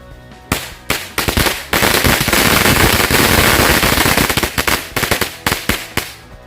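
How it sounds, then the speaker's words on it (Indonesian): Two packs of mercon korek firecrackers go off together, a loud, sustained crackling barrage of rapid pops that swells into a dense roar for several seconds, then thins into scattered, sharper bangs as it dies out. "yang pertama kita nyalakan 2 gepok mercon korek sekaligus"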